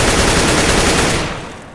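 A rifle in Counter-Strike: Global Offensive fires one continuous rapid burst, a dense, loud, close stream of shots that fades off near the end, with no voices.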